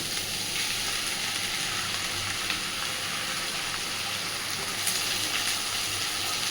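Fish roe rubbed with salt and turmeric fries with spices and vegetables in a kadai, a close, even sizzle and hiss that runs steadily without pause.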